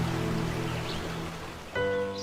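A cartoon waterfall gives a steady, broad rushing roar for under two seconds before it cuts to a bright musical chord.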